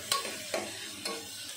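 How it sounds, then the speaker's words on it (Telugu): Chopped onions with turmeric fry in a pan, a soft steady sizzle with a few scraping stirs of a spoon at regular intervals. "మనకి ఆనియన్స్ ఫ్రై అయ్యేంత వరకు ఫ్రై చేసుకుందాం."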